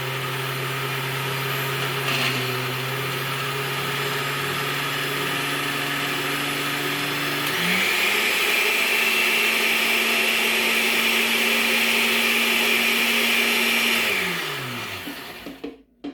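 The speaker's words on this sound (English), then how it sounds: "you can really tell what a poor quality blender I've bought" Cheap kitchen blender whirring while blending pesto, a loud steady motor whine that shifts pitch partway through, runs on, then spins down and stops at the end.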